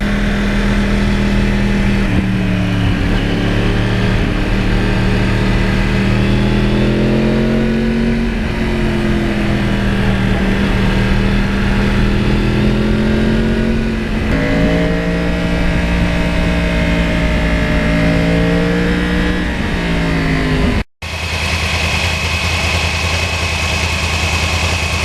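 A Yamaha R1 crossplane motorcycle engine runs loud and close while riding on a quiet, low-traffic road. Its steady drone rises and falls in pitch as the throttle changes, with a sharp brief cutout near the end before it resumes.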